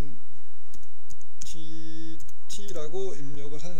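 Computer keyboard being typed on in scattered, quick clicks and taps under a person speaking throughout.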